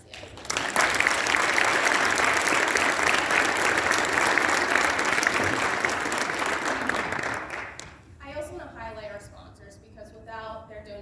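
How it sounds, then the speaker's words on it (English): Loud, sustained audience applause for the chair at a bar association MLK awards event in Pittsburgh, a dense wash of clapping that fades after several seconds before a single voice speaks into the microphone. "I want to give a round of applause to our chair, Jesse Exelis"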